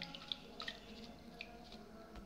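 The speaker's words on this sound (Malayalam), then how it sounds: "ഞാൻ ഇതിനെ അരിച്ചെടുക്കുകയാണ്. ഒരു പാത്രത്തിൻ്റെ മീത് അരിപ്പ് വെച്ചിട്ടുണ്ട്." Buttermilk drains through a sieve into a vessel below, making a very faint, quiet trickle broken by a few soft, separate drips.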